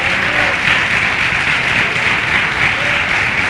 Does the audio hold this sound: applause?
yes